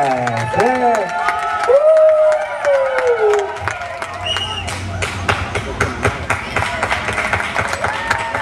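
A festival crowd in Peterborough claps and cheers for a salsa band, loud dense applause with whoops building under a fading emcee's voice, clapping continuing steadily to the end.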